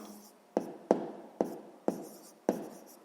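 Pen writing by hand on paper during a sixth-grade maths exercise, five distinct scratchy strokes at a steady rhythm, close and fairly clear with a faint hiss between them.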